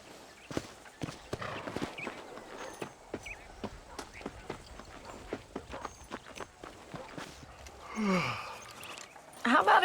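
Horse hoofbeats clip-clop steadily in the video game Red Dead Redemption, a walking rhythm of fairly faint, close hits, joined near the end by a brief whinny-like sound and voices talking.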